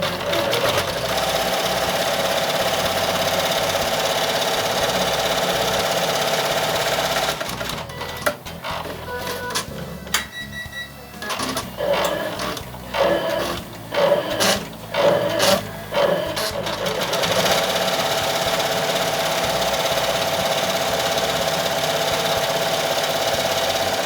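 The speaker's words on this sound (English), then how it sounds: "Let's go ahead and start the machine." A Bernina E 16 embroidery machine stitches out a puffy foam design, its needle hammering in a steady fast mechanical rhythm, then breaking into choppier, uneven bursts midway before resuming its even drone, close and loud with no talking.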